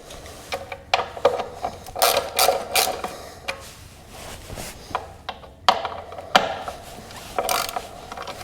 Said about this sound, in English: It takes a T30 Torx to remove it. There are 5 screws, so let's jump in and take that off.